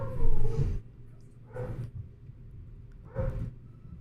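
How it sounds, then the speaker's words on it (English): Dogs barking and yipping upstairs in a house, three separate bursts of muffled, somewhat distant barks with pauses between them and no talk over them. "As my dogs are going nuts upstairs."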